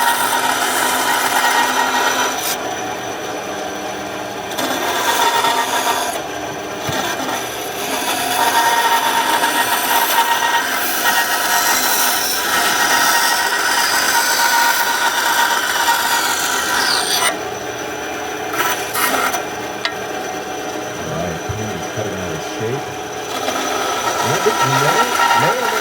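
A briar tobacco pipe being sanded by hand with fine sandpaper up to 1,200 grit at a pipe-carving competition, a continuous close raspy rubbing in repeated strokes, with people talking over it at times.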